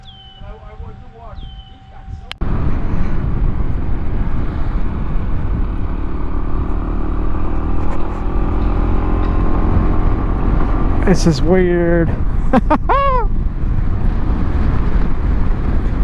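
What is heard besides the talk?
Honda ADV 150 scooter riding at top speed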